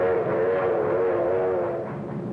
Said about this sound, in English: Trains were assembled on the spot, loaded with freight and sped forward.